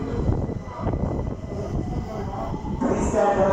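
A London Underground Victoria line train rumbles steadily along the track, a continuous low mechanical roar with a brief higher whine near the end, heard up close from on board.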